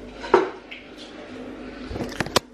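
Pots are put away into new kitchen cupboards with a few close clanks and knocks. The sharpest metallic hits come near the end, and a faint voice can be heard at one point.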